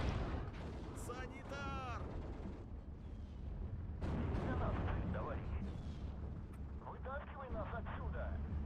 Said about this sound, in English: That's some sweet friendly fire coming in there.